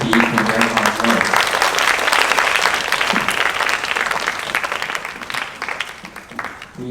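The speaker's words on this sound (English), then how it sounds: "Please give another round of applause to the students of Team B for their hard work." An audience at a student international academic forum in Namhae applauds Team B's students after their presentation, a loud sustained clapping from many hands that carries on steadily before thinning and fading toward the end.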